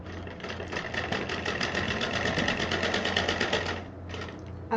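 A sewing machine runs steadily while stitching a purse, a close, even rapid whir of needle strokes for about four seconds that briefly slows, then picks up again.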